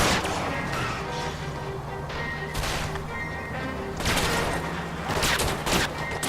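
Gunshots from the L.A. Noire video game as shots are fired at a fleeing car's tires during a chase, several sharp bursts spread irregularly over steady engine and road noise.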